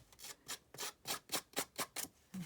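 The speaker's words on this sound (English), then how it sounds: "I'm going to start with the scissors here and just rough it up a little bit." Scissors scraped across paper to rough it up for a vintage-style faux deed, making about eight quick, evenly spaced rasping strokes, close and quiet.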